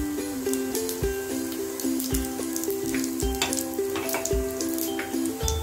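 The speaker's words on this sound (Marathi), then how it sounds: "प्रथम पॅन मध्ये तेल टाकून घ्यायचे। मध्ये जिरे टाकून घ्यायचे 2 चमचे।" Cumin seeds sizzle in hot oil in a pan for jeera aloo, a steady close frying hiss with small crackles and faint tonal hum throughout.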